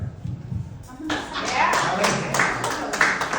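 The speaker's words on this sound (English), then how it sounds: "Round of applause." An audience breaks into a round of applause during a comedy set, the clapping swelling in after a second of murmured talk and holding steady and fairly close to the end.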